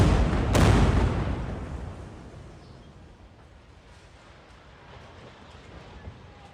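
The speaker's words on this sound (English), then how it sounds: "If you're not watching the intensity of Israeli bombardment in Lebanon" Israeli bombardment in Lebanon: a single strong explosion early on, followed by a long fading rumble and faint low background noise.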